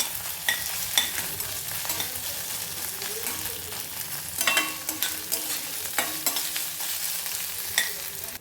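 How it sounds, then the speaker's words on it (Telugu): Ginger-garlic paste fries in a pan with a constant crackling sizzle, broken by repeated scraping strokes of a spatula at an irregular pace, close and without any talking. "అల్లం తెల్లగడ్డ పేస్టు పచ్చివాసన పోయేంతవరకు అట్లా వేపుకుంటే సరిపోతుంది"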